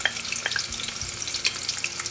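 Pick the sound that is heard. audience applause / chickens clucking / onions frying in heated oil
onions frying in heated oil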